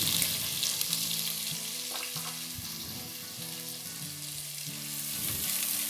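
Cut onions fry in well-heated oil, giving a constant bright sizzle with soft stirring scrapes and occasional spatula knocks against the pan, no talking.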